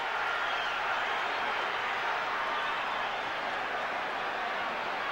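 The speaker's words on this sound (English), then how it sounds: "Listen to the crowd." A big boxing crowd at the Tyson versus Holyfield rematch roars in a continuous, dense wash of cheering and noise that stays loud throughout.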